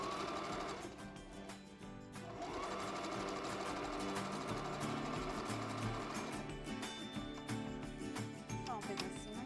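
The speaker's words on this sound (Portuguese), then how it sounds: "Então agora aqui eu vou costurar embaixo, mas só as duas pontas." A sewing machine stitches just the two bottom ends of a fabric bag, a steady close-up whirring run that continues almost without pause.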